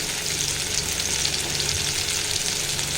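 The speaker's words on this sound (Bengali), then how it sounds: "মশলাগুলো দেওয়ার পরে আমি নাড়াচাড়া করে দিলাম কিছুটা" Spices being stirred in a pan of sizzling oil for Chittagong-style loitta fish curry, with salt, turmeric, chili and coriander powder, tomato and green chilies; a steady, close frying hiss runs throughout with no talk.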